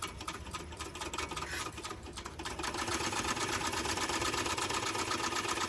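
A sewing machine back stitches a pouch seam with a quiet continuous whirring run that steadies and gets slightly louder partway through, with no talk.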